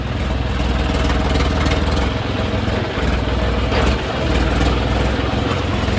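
A tractor engine runs steadily on a Punjabi farm, a loud, close, low diesel rumble that idles continuously with only a brief dip midway.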